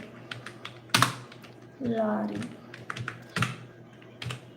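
Computer keyboard typing during a Tamil word-processing lesson on bullets and numbering: scattered close key clacks in irregular bursts, with a voice talking briefly in the middle.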